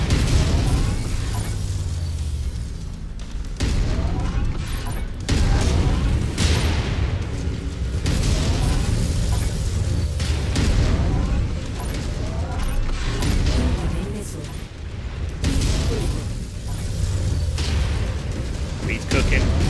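Missile explosions from Mechwarrior 5 Mercenaries combat, with repeated heavy booms and bursts throughout amid dense mechanical battle noise, loud and continuous, with someone talking over parts of it.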